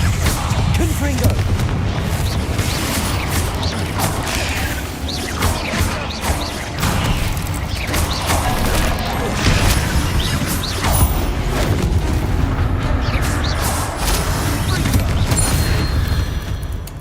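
Repeated Confringo blasting spell explosions in the Hogwarts Legacy video game thud and crack amid dense combat effects and game music, with voices talking over the action.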